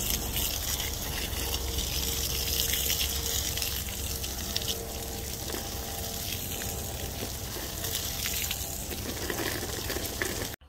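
Water gushes steadily from a hose onto garlic plants in a garden bed, a continuous loud hissing spray that lasts unbroken before cutting off abruptly at the end.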